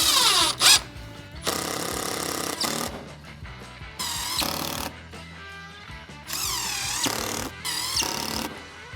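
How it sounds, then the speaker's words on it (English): A power drill drives screws into the wooden backing of a stool built from a Subaru FA20 DIT crankshaft. It whirs close and loud in several bursts whose pitch rises and falls as each screw goes in. "just gotta attach some screws to this thing. The backing is wood, so these screws should just go right in."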